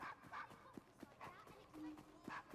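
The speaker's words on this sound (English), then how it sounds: "Keep barking, Desmond" Desmond, a dog in Assassin's Creed Syndicate, gives a string of short, yipping barks and whimpers in quick succession, fairly close and clear.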